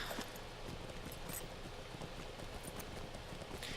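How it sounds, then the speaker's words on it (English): A horse rides through rain in the video game Lord of the Rings Online, with dense steady rainfall hissing throughout and faint hoof clatter mixed in, no talking. "we will once again saddle up and ride through the rain"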